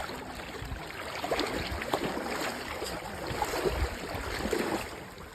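Water flows steadily along the bank of the Indus river near Muzaffargarh, a dense, continuous rushing wash heard close and fairly soft, with no talking over it.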